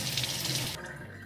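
A bathroom tap runs steadily while bleached blonde hair is rinsed under it, a loud, close hiss of flowing water that shifts abruptly to a softer, duller splash partway through.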